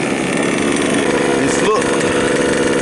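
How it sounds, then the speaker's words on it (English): A Losi Five B RC car with an OBR 32cc two-stroke engine idles steadily and close up, giving a continuous buzzy drone throughout while a voice speaks briefly over it. "the car is idling good, no problems, no bogging, and it's still running rich"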